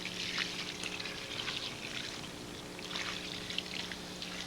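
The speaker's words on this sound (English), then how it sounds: "Got a lot of water in there on those coals." Water pours onto hot campfire coals in a Vermont forest, a steady hissing trickle and sizzle with a few brighter splashy bursts, close and continuous over a faint low hum.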